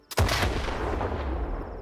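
A single loud, close blast with a sharp crack followed by a long booming rumble that slowly fades, an RPG-7 rocket launcher firing in STALKER 2.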